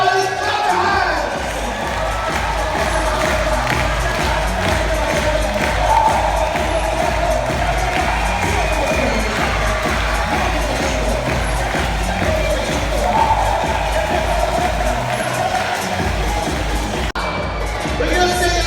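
A crowd of spectators at a dolphin show in Dubai cheers and shouts steadily throughout, a loud continuous roar of voices with hand claps mixed in and a host's amplified voice over the top.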